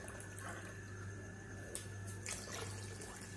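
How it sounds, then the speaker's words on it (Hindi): Water pours into a pan of chickpeas and potatoes as a soft, steady splashing trickle, faint and without talk. "पानी इतना डालिए कि ये थोड़ा सा डूब जाए चनों में"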